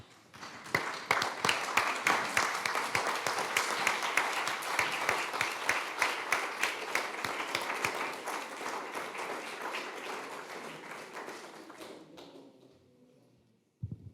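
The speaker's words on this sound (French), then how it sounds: "se lever tous et de vous applaudir en même temps" A standing audience at a lean construction congress claps in unison, loud rhythmic beats that gradually thin out and fade to near silence, followed by a brief final burst of sound.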